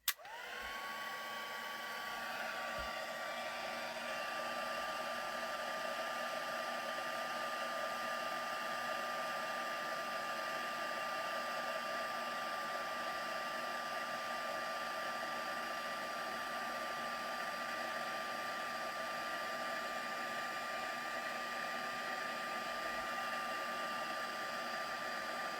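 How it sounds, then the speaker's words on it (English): A craft heat tool blows continuously while drying an art journal page, a steady close whirring hiss that holds at the same level for the whole stretch after a brief click at the start, with no talking. "And then again, I'm going in with a heat tool,"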